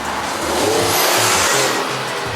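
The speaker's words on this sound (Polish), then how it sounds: "Samochód ma bardzo fajny dźwięk silnika." Turbocharged inline five-cylinder engine of a Volvo V40 Cross Country T5 AWD revving steadily and loudly, a rich, throaty drone that holds its pitch throughout, heard close with no talking.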